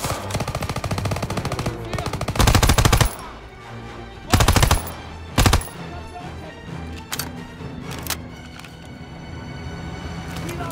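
Machine gun fire in the Call of Duty WWII video game, loud rapid bursts of automatic gunfire in several clusters with single shots and crashes between them amid busy battle noise.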